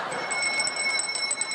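A school period bell ringing in a TV sitcom, a continuous high metallic trill held steadily for the whole moment.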